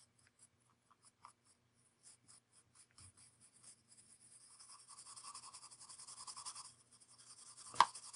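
A brush rubs and burnishes variegated gold leaf onto watercolor paper jewelry, a soft, steady scratchy swishing that builds in the middle and ends with a sharp tap, quiet and close with no voices.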